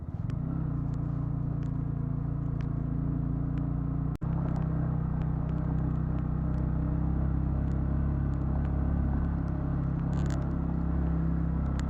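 A Honda Grom motorcycle ridden slowly along a North Shore Minnesota road, its small engine giving a steady, loud, close rumble throughout with one brief sharp click partway, and no talking.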